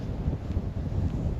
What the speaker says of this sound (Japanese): もう相当多分風の音入ってるけど、多分4メーター5メーター。